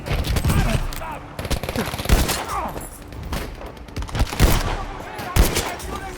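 Dense gunfire from the video game Battlefield V, with rapid overlapping bursts and loud single shots in a busy battle mix, while in-game voices shout in French underneath.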